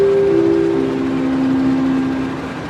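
Train hauled by a CC203 series diesel locomotive in Indonesia, a loud, close drone with steady tonal hums that slowly shift pitch over continuous rumbling, slightly fading at the end.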